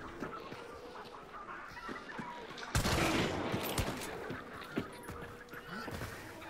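Gunfire in the multiplayer shooter Hunt: Showdown, a burst of sharp shots and rattling fire starting partway through, heard at a distance amid ambient game noise, with people talking over it.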